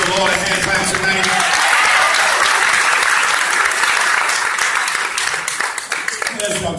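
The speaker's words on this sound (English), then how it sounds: "I give the Lord a hand clap tonight." A congregation at a Fellowship Tabernacle interfaith service claps for the Lord, dense sustained applause from many hands filling the room, with voices mixed in beneath it.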